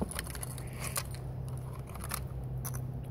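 Wires snipped inside an Anki Overdrive toy car, a few sharp close clicks and small crackles from cutting tools, fairly quiet with a low background hum.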